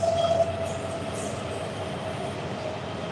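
A train rolls past an Ohio fishing spot at night, a steady loud rumble with a faint wheel squeal, no pauses from start to finish.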